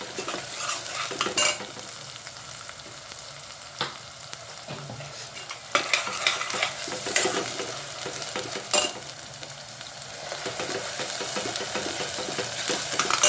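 Ground masala paste fries with roasted onions in a pan for a drumstick and prawn curry, a steady sizzle broken by scraping stirs and occasional utensil taps, close and with no talking.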